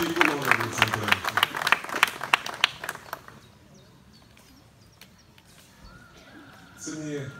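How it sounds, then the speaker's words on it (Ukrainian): An audience at a Ukrainian gathering in Pykulychi claps for a few seconds, sharp individual claps that thin out and stop, leaving a quiet room, then a brief burst of voices near the end. "Сьогодні найбільші оплески при представленні отримали ті, котрі зараз отримують"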